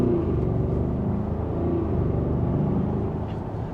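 A 2026 Audi SQ8 SUV accelerating in normal mode gives a deep, steady engine rumble with a low drone that holds evenly, heard from inside the cabin.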